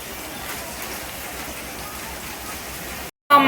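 Heavy rain falling outdoors, a dense, even hiss of drops that holds steady and then cuts off abruptly near the end.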